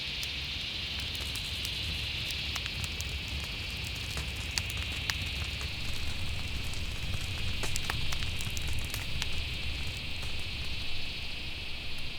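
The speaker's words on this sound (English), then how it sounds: "But it is raining quite heavily" Heavy rain pours down steadily in the Greater Kruger National Park, a dense hiss with scattered sharper drop impacts, continuous and unbroken throughout.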